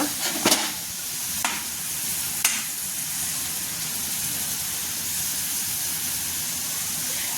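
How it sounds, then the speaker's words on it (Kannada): Tomatoes fry in a pan with a steady, close hissing sizzle, and a few quick spoon taps come near the start. "ಟಮಾಟೆ ಹಾಕ್ಕೊಂಡಿದ್ದೀನಿ ನೋಡಿ. ಇದು ಸಹ ಫ್ರೈ ಮಾಡಬೇಕು."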